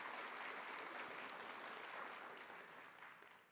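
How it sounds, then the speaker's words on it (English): A crowd at an academic summit applauds with dense, steady clapping that gradually fades toward the end, heard from a distance. "Round of applause for them."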